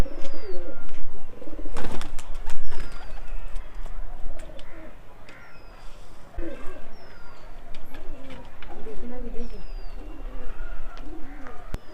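Domestic pigeons, including a biscuit-coloured female, cooing repeatedly in low rolling bursts through a noisy backyard scene, with sharp clattering handling noises and faint high chirps; someone talks over them at times.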